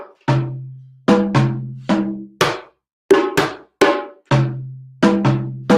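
Hand drum played with alternating deep bass strokes and sharper tone strokes, about eleven crisp hits in a steady, slightly uneven rhythm, close and loud with no talking.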